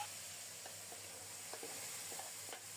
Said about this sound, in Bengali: পেঁয়াজটা লাল লাল করে ভাজা হলে তারপরে সজনে ডাল দিয়ে দিচ্ছি